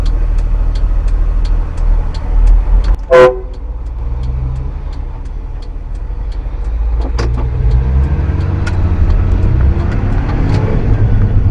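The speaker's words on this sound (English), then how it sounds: "Need to give a little toot at some idiot driver." A big truck's horn gives one short, loud toot at another driver, heard from inside a broken-down mini-truck over steady engine and road rumble, with a second fainter honk later.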